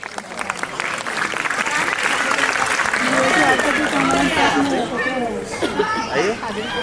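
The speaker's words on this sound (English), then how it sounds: "big round of applause to LKG class" Sustained audience applause for a kindergarten dance performance at a school annual function, a dense wash of clapping mixed with crowd chatter and children's voices, swelling then gradually thinning.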